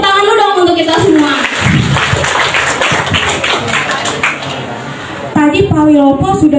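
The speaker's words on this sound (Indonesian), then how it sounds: "tepuk tangan dulu dong untuk kita semua" School students at an anti-violence awareness session at a junior high school in Tangerang clap together in a dense, fairly loud burst, with speech before and after the clapping.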